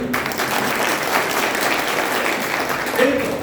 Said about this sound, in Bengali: আপনারা প্রত্যেকে নিজেদের জন্য একটা করে হাতে তালি দেন